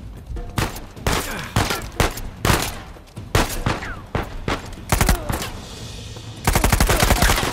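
Rapid gunfire in the Uncharted 4 video game, loud repeated bursts of shots in an uneven rhythm, close and continuous, ending in a dense rattling volley.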